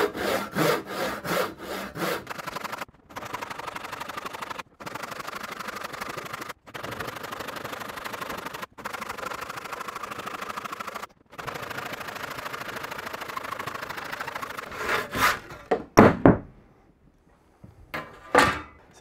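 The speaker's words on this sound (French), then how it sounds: "c'est une vraie tronçonneuse" A sharp, recently resharpened hand saw cuts through wood for a wooden seat. It starts with a few distinct strokes, then settles into a long, steady, close rasping run with brief pauses, and ends in scattered final strokes.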